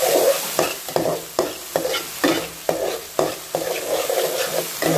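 Onions sautéing in a pan for a Bangladeshi-style chitol fish bhuna, with a steady sizzle broken by regular, close spatula scrapes and stirs, about ten strokes in five seconds.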